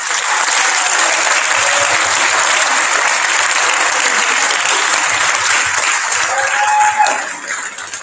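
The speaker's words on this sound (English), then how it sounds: "Can we just do a round of applause for them?" Congress audience applauding the scrutineers, a loud, even wash of many hands clapping that holds steady, with a brief faint voice near the end before it starts to fade.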